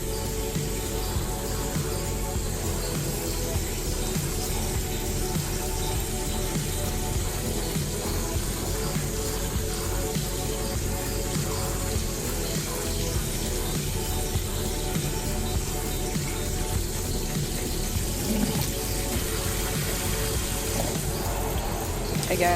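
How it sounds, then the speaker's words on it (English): Water running steadily from a faucet nozzle to rinse soap off a rolling tray, a continuous close spray and splash holding at an even level throughout. "Rinse, make sure you get all that soap off."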